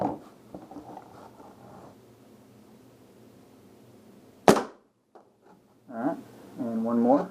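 A Bob Long VCOM paintball marker fires an Atomic Pickle projectile indoors, one sharp loud pop midway, followed by faint clicks and someone speaking nearby.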